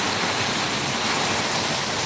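Heavy downpour mixed with very fine hail, a dense, steady, loud hiss of water striking the ground and road, continuous without breaks and with no voices.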